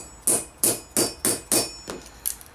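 Six sharp, bright metallic hammer taps ring out at an even pace, close and crisp, as a buckle escutcheon for medieval armour is struck against an anvil, the last blow lighter.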